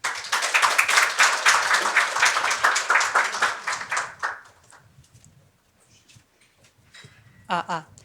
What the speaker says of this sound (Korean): 그런 발제자를 큰 박수로 모시겠습니다.